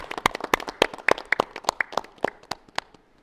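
Audience applause for Kadyrbek Murataliev at a benefit concert comes as a short burst of scattered, distinct hand claps that thins out and fades over a few seconds.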